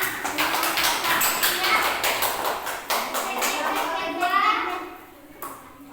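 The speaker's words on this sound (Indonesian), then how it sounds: "Ayo tepuk tangan untuk kelompok pertama." A small group of people clapping for the first group of presenters, rapid uneven claps close by for several seconds before thinning out, with children's voices talking over them.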